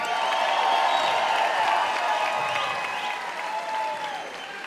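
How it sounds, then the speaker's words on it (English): A fight-event crowd claps and cheers loudly and steadily for several seconds after a bout, a dense wash of applause with scattered whoops. "how about a big round of applause for the big boys?"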